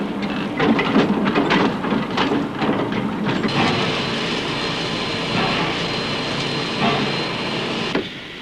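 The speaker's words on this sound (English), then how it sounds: "the trucks roll onto the railway siding for haulage to Westport" Heavy coal wagons rumble and clank along a railway siding, a loud rolling roar with rattling impacts that holds steady before cutting off near the end.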